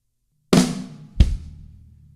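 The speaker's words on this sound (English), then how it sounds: "And so right after that snare drum hit, we're going to hit our bass drum." On a drum kit, a crisp snare drum hit is followed about seven tenths of a second later by a deep, thumping bass drum kick, both close and clear, each ringing briefly, with no talking.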